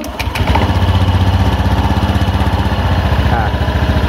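A motorcycle with a CVT transmission starts and then settles into a loud, close, steady idle with an even pulsing throb throughout.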